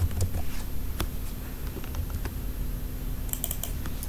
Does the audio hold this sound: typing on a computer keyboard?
yes